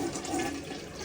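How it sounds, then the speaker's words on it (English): A household toilet flushing during a plumbing check of a backed-up drain line, a steady close rush of water filling the clip without voices. "Flush the toilet."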